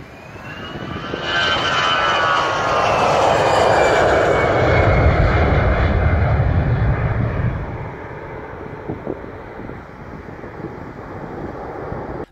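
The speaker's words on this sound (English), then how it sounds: "This Airbus A319 performs a really low pass close to the ground." An Airbus A319 jet roars loudly as it makes a very low pass close to the ground, its engine noise swelling to a broad sustained rumble and then slowly fading as it moves away.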